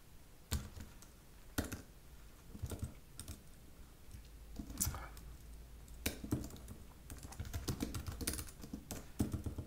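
Quiet typing on a computer keyboard, with irregular bursts of soft key clicks and occasional sharper taps, close to the microphone in an otherwise still room.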